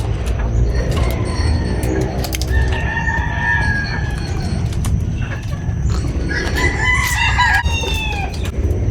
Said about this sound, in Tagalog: Yung manok na balbo, no? Chinese?